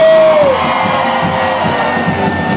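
A crowd at a live samba show in Zanzibar shouts and cheers loudly and close after a whistle-like tone at the start, the roar of voices staying dense and sustained throughout.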